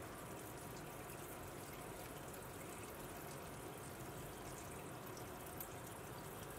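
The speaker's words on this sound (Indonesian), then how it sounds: "Kemudian kita bilas dengan air mengalir." Running tap water rinses a stained microscope slide during a Gram stain, a steady, even rush of flowing water that continues unbroken throughout at a moderate level, with no voices.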